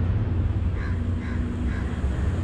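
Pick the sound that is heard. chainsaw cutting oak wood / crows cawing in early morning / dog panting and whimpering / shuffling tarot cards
crows cawing in early morning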